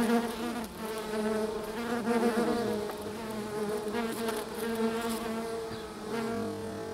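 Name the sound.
wasps buzzing, Vespula rufa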